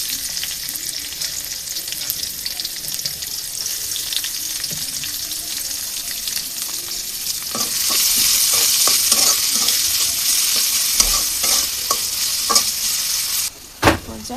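Chopped onions fry in oil for chicken tehari, a constant sizzle that swells louder partway through as a spatula starts stirring with rhythmic scrapes and clinks, ending with a sharp knock.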